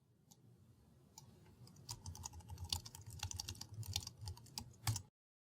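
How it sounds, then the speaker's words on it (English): Keys clatter on a computer keyboard as new text is typed into an HTML file, a fast irregular run of close, crisp clicks building steadily before stopping abruptly. "First, we'll type in some new text, such as the sentence, "Look what I can do.""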